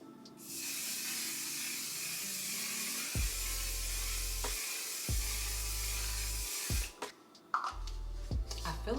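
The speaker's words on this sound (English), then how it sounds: "I'm going to apply some setting spray." A long, steady hiss of aerosol makeup setting spray sprays close by for about six seconds, then cuts off, with a few faint low tones and clicks around it.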